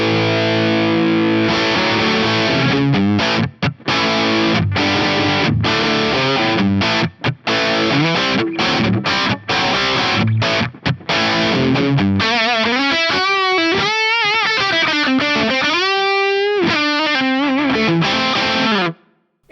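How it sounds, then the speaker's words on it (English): Electric guitar played through an Axe-Fx III amp modeler with a nasty, spitty distorted drive tone, heard as loud chugging chords and stabs broken by short gaps, then sustained bent lead notes near the end, with no talking. "It's still a really nasty, spitty kind of drive."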